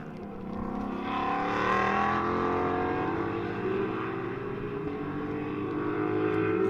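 An Aston Martin Vantage GT4 race car with a turbocharged engine drones loudly on the circuit during a GT4 sprint race at COTA, its engine note holding steady and shifting slightly in pitch as it runs close by, with no talk.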